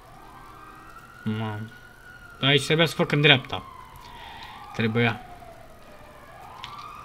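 A police siren wails in a driving video game, a gliding rising-and-falling tone running through the whole stretch at moderate distance, while someone talks over it in several short bursts.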